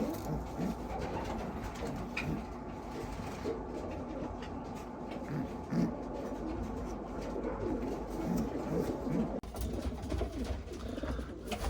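Racing pigeons coo steadily in a loft after returning from a one-loft race, a continuous murmur of overlapping low coos with faint rustling, fairly close and unbroken throughout.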